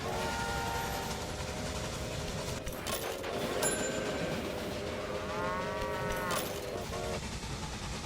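Trains running in the Railway Empire game on PS4, a continuous rolling rumble with overlapping whistle-like horn tones and brief tonal calls rising and falling over the steady clatter.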